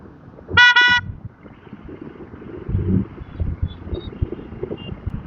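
A horn on a road in Assam during a ride on an XPulse 200 4V motorcycle gives one short, clear honk near the start, followed by wind and engine rumble.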